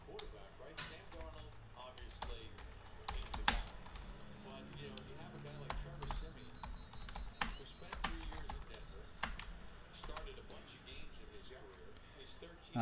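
Computer keyboard keys tapped in quick irregular bursts while entering trading card box break hits, with people chatting in the background throughout.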